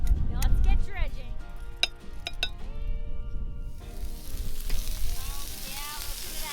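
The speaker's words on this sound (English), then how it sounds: "listen to that sizzle" Vegan French toast sizzling and crackling in hot oil on a griddle over a maple syrup evaporator, a steady frying hiss with a few clinks of utensils, fairly close.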